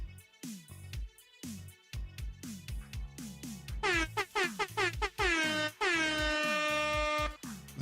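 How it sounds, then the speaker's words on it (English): Rapid air horn blasts in a choppy, stuttering rhythm, building into longer sustained blares with falling pitch, loud and electronic-sounding. "We got air horn."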